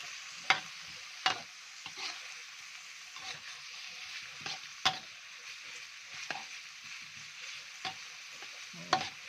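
Steady sizzling of pork stir-frying for Thai pad krapow in a hot blackened pan, with periodic sharp scrapes and clanks of a spatula against the metal.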